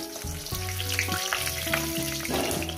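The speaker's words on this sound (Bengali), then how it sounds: "মাছগুলো আমার ভাজা হয়ে গেছে" Pieces of katla fish fry in hot oil with a loud, continuous close-up sizzle and crackle, heard alone without speech.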